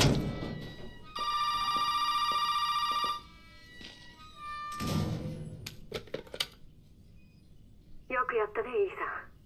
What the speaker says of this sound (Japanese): 今ちょっと電話が鳴りましたけど